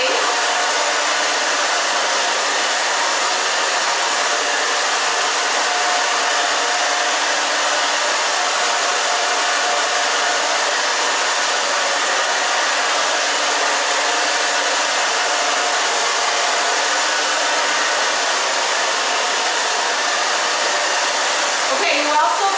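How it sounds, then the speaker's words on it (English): Hair dryer blowing steadily on a woman's undercut bob, a loud, continuous broadband whoosh held at constant strength from start to finish with no talk over it. "just drying it this way"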